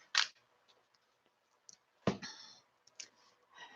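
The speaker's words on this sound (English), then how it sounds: "Let me put down your card for the week starting the 21st" Tarot cards laid down on a table, a few soft, sparse clicks and taps close by in a quiet room, with one sharper slap near the middle.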